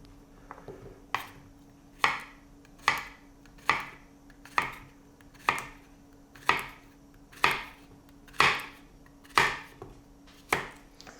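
A knife slices through vegetables on a cutting board in a steady, evenly spaced series of about twelve crisp chops, close and clear, with no voices over them.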